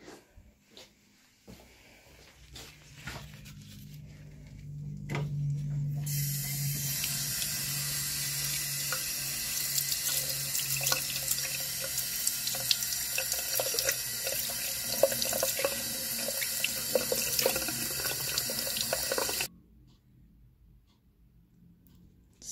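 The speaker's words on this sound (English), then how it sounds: "I'm going to give it a good wash over in the sink" A sterling silver piece is rinsed under a running tap in a sink, the water rushing steadily for about fifteen seconds with small clinks and shifts, then shut off, followed by quiet handling.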